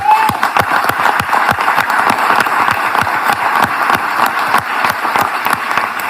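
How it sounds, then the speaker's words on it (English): Audience applause fills a room at a live event where Governor DeSantis is speaking, a steady, dense clatter of many hands clapping at close range for the full stretch with no break. "I want to give y'all a round of applause"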